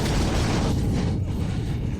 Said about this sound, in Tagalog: Sumabog siya.